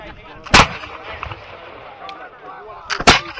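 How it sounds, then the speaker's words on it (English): Two loud, sharp musket volleys crack at a Revolutionary War reenactment, about two and a half seconds apart, over a low bed of outdoor crowd noise and faint background chatter. "Get those muskets working! Keep up the fire!"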